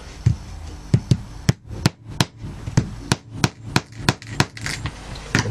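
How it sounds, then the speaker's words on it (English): A small pin hammer sets a metal rivet into leather in a workshop: about a dozen sharp, close taps at a fairly even pace, each ringing briefly, with no talk. "So the hammering sets the back of the rivet flush with the leather"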